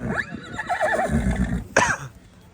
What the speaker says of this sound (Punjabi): 63 ਇੰਚ ਦੀ ਨੁਕਰੀ ਘੋੜੀ ਆ